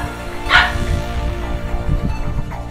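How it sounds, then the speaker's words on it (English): A dog barks once sharply and near, then gives a few softer, lower barks among background noise during gameplay. "Sorry about the dog."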